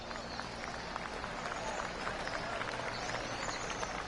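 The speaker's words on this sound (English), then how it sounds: "Oh, golf clap." A golf crowd in the PGA 2K25 video game gives a light, polite golf clap, soft scattered clapping at a distance, with faint speech mixed in.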